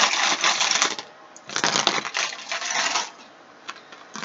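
Tarot charms cast by hand and dropping onto a surface, giving bursts of bright clinking, rattling clatter in three clusters with short pauses between, close and fairly loud with no talk.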